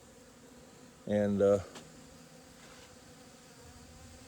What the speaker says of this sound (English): mostly I just wanted to see if y'all could see all the bees out in the corn